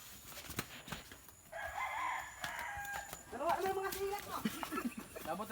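A rooster crows amid chickens clucking, with people talking and laughing throughout in a busy outdoor farm setting in the Philippines.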